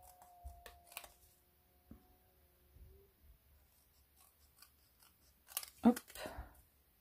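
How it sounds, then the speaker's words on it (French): Scissors cutting paper while preparing a decorated vintage tea sachet: a few soft snips early, then a louder cluster of close, crisp cuts near the end, with quiet pauses between. "je vais déjà découper ça"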